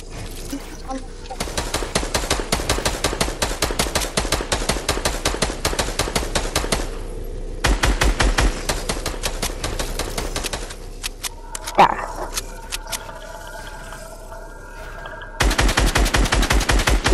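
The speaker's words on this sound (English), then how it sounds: "They're both shooting down." Players shooting in a Fortnite 1v1 zone wars match produce long runs of rapid, sharp gunshots in close, rattling bursts, separated by brief pauses and a few isolated clicks.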